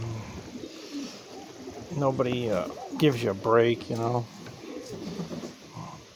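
Pigeons coo nearby in deep, throaty rolling calls, several in a row in the middle stretch, while someone talks over them.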